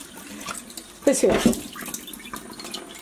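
Water from a kitchen tap runs over carrot strips to cool them, a brief burst of splashing beneath someone speaking, followed by softer trickling.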